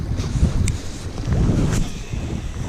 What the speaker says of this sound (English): Golly, that wind is kicking.